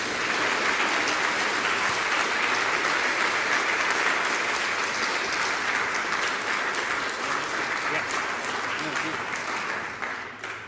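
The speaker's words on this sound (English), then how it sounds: "So please join me in doing a big round of applause to the MinnPost Festival, to Mr. David Rohde." Sustained audience applause at the MinnPost Festival, a dense steady wash of many hands clapping that carries on without break and fades slightly at the very end.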